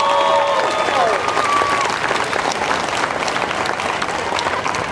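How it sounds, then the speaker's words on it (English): At the Wyoming State Fair's Miss Rodeo Wyoming event, a rodeo crowd applauds loudly and steadily for the sponsors. Brief whistles or voices rise over the clapping early on. "Let's give them a round of applause as well."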